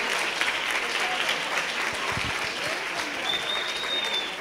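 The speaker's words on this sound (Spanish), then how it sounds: "un fuerte aplauso" An audience at an international psychology and education conference applauds after a choir's performance, a loud, dense, continuous ovation filling the room with scattered cheers.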